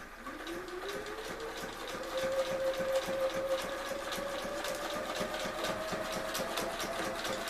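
A sewing machine stitches paper-pieced quilt fabric together, a steady rapid mechanical whir with a faint rising motor whine, running continuously at moderate volume with no talking.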